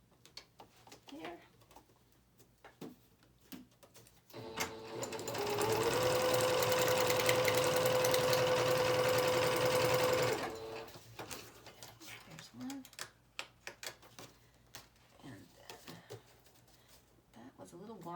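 A domestic sewing machine runs a continuous straight stitch for about six seconds, a loud steady whirring motor with a sustained whine, set apart from quieter room sounds and handling noises before and after.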